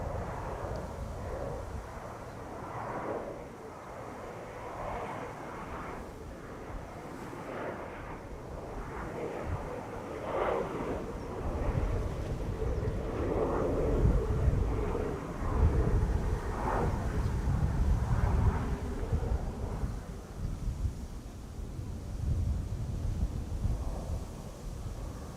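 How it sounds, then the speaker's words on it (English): A KLM Embraer 175 airliner arriving at Schiphol Airport from Nantes makes a distant jet roar that swells and fades across the clip, mixed with heavy wind buffeting on the microphone. "This is KLM flight 1424 arriving from Nantes. It is an M175."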